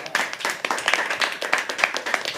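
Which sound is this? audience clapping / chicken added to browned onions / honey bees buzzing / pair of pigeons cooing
audience clapping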